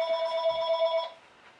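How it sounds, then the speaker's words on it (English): A telephone rings once with a bright, warbling electronic trill lasting about a second before cutting off into quiet room tone. "Now the phone's ringing."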